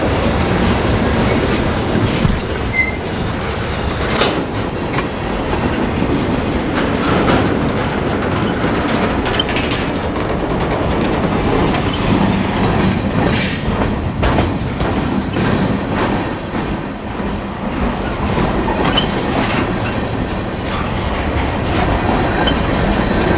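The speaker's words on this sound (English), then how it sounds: "I don't think I've ever been this close to a train" A train rolls past very close, a loud, continuous roar with rattling, clattering wheels that holds for the whole stretch. No one speaks.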